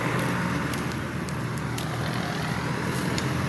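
A jeepney rolls along a road, its steady engine rumble and road noise filling the scene at moderate distance with no break.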